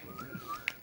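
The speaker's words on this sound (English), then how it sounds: "Impressive whistling." A person whistles a short stretch of a tune, a single thin gliding note line that rises and falls, fairly faint and brief.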